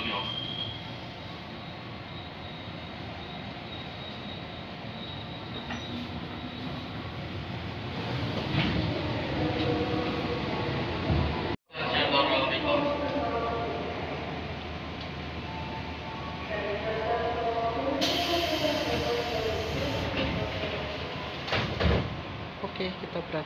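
A commuter train rumbles and hums as it pulls away from Pondok Cina station in Depok, Indonesia, with a sharp door thud midway and a chime or announcement tone later; voices murmur in the background.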